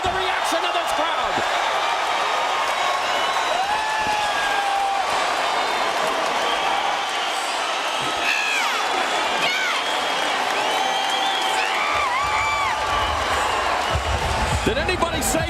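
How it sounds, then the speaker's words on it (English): Arena crowd at a Cung Le vs Tony Fryklund mixed martial arts fight in San Jose roars continuously after a knockdown, a dense, loud wall of cheering and shouts with whistles rising through it. "Listen to the reaction of this crowd."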